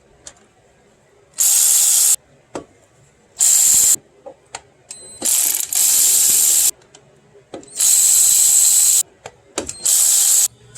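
Power tool, likely an impact wrench, backing out bolts on a 2001–2005 Honda Civic 1.7 engine during an oil pump O-ring repair, in five loud bursts of about a second each, separated by short quiet gaps and light clicks.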